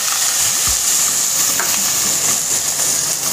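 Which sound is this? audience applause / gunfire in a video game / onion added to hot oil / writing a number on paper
onion added to hot oil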